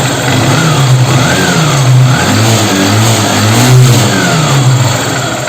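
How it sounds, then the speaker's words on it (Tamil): A Honda Shine motorcycle engine idling after a service, a smooth, steady mid-pitched putter with a few gentle rises in revs, close and continuous with no voices. "பைக் ஸ்டார்ட் ஆகிடுச்சு. ஐட்லிங்கில் இன்ஜின் நாய்ஸ்லாம் ஸ்மூத்தாக இருக்குது."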